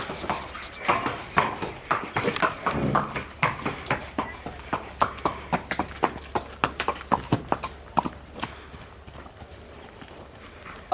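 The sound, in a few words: horse hooves clip-clopping while being ridden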